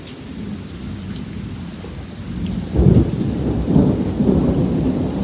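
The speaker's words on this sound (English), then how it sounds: "Oh, lightning just happened again, and I think it's about to go big boom right about now." A sudden thunderstorm: steady rain hisses on surfaces while deep thunder rumbles and booms loudly partway through, rolling on in heavy waves with no talk.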